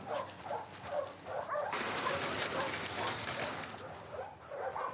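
Dog in The Last of Us Part II video game, whimpering and yipping close by with a few soft barks, a burst of broadband noise in the middle.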